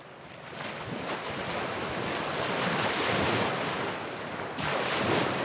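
Waves wash steadily onto the sand at North Beach in Burlington, a lake beach in Vermont, a continuous broad rushing surf with wind noise buffeting the microphone.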